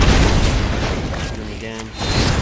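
A creature is shot in Magic The Gathering Arena, producing a loud, booming impact effect with a broad, noisy wash that briefly dips and then swells again.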